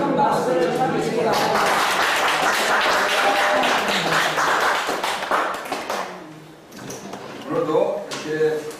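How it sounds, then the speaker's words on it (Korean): A church congregation claps loudly for about six seconds, a dense patter that fades out before a voice speaks. "감사의 큰 박수를 드리겠습니다."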